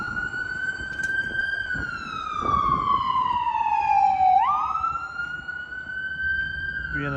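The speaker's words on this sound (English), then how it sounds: "There's a fire department ambulance crossing the Burlington Northern Santa Fe Railway on LaGrange Road, heading south." A fire department ambulance siren wails loud and steady near a BNSF railway crossing on LaGrange Road, its pitch sliding down then sweeping back up, with faint traffic noise underneath.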